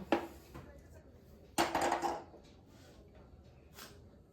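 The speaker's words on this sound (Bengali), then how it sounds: "এবার আমি একটা কড়াই বসিয়ে দেবো।" A metal kadai wok is set down on a kitchen stove, giving two clanking impacts, a short one at the start and a louder scraping clatter in the middle, with faint kitchen noise between.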